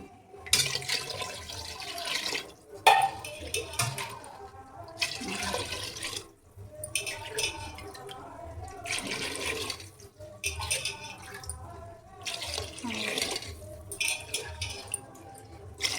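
Water pours steadily into a pot for biryani rice in a home kitchen, a continuous splashing flow broken by short pauses, fairly close and alone without talk.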